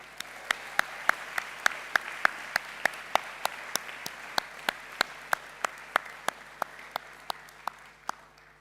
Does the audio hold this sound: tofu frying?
no